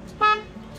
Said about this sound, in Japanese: ホーンをちょっと鳴らしてみてください